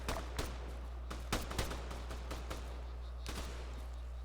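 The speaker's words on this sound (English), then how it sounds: "They're not all down if they're still shooting." Gunfire during a firefight in the video game Arma 3, scattered sharp shots and short bursts at varying distances over a steady low rumble, with no talk.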